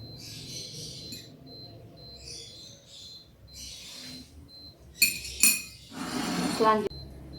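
Glassware set into a metal pan for boiling leaves in alcohol during a school photosynthesis experiment, giving several sharp clinks and clatters near the end after quieter rustling handling sounds.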